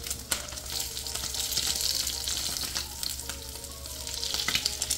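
Food sizzles and crackles steadily in hot oil, a close, continuous frying hiss with occasional sharper pops, with no talking.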